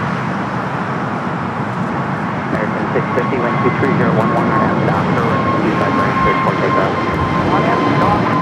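A Boeing 737 MAX 8 jet airliner at Los Angeles LAX airport, a loud, continuous engine roar and whine that builds slightly and holds steady, with a voice talking over it.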